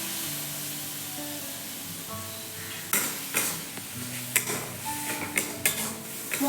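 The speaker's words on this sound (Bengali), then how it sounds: "এবার দিয়ে দেব হলুদ গুঁড়ো ও জিরে গুঁড়ো, অল্প একটু মশলা দেব।" Turmeric and cumin powder sizzling in oil in a pan for a milk prawn curry, a steady hiss that turns into a run of sharp scraping and clinking strokes of stirring in the second half.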